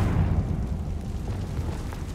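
A deep rumbling Confringo blast spell explosion from Hogwarts Legacy, a sustained low boom that rolls on steadily without any voices.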